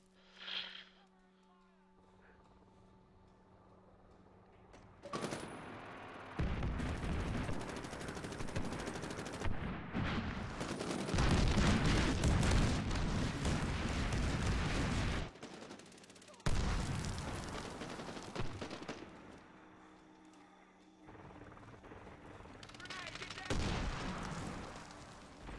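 Online multiplayer gunfire in Medal of Honor Warfighter plays as long dense bursts of rapid shots and booms, loud and near, with short quieter gaps between the bursts.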